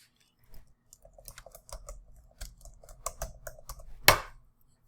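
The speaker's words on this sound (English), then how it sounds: "So you can see I typed in the name there" A computer keyboard is typed on to enter a group name while setting up a Facebook group: irregular bursts of close, crisp key clicks with short pauses, ending in one louder tap, with no talking.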